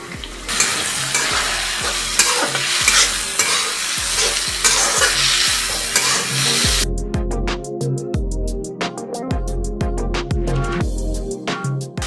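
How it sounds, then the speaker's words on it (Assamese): Loud sizzling of soaked masoor lentils frying in a hot pan with rhythmic scraping strokes of a spoon stirring, the hiss easing halfway while the stirring carries on. "এই দালিখিনি আমি ইয়াতে একেলগে লগ কৰি ভাজিম"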